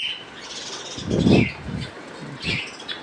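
Giribaz Madras pigeons call with short soft coos and chirps, and a brief flutter of wings is mixed in, close by against light background noise.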